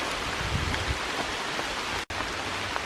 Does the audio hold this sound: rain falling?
yes